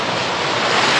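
Loud, continuous roar of rough ocean surf with strong undertow on a Mexican coast, heavy wind noise, close and unbroken.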